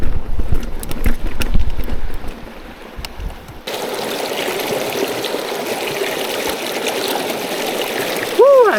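A big mountain creek in Utah rushes steadily and close by, with brief clattering and rustling over it at first and a short voice near the end.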